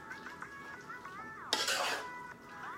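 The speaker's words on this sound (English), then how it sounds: "I'm kind of just swirling around it to get all of it coated" Cooked macaroni being swirled with mayonnaise in a bowl, soft clinks and scrapes of a utensil against the dish, one louder scrape partway through, close and fairly quiet, no talk.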